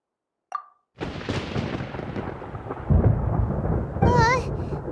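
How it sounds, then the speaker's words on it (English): Rumbling thunder in Genshin Impact, a low roll building after a brief pop and swelling through the scene, with a chirpy game voice chiming in near the end. "Paimon hears thunder!"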